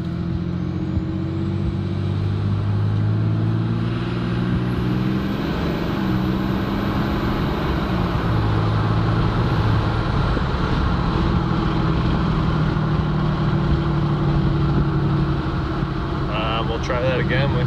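A car fitted with a 5-inch intake accelerates with the windows down, its loud engine drone climbing in pitch, leveling off, then holding steady near and continuous for the whole stretch.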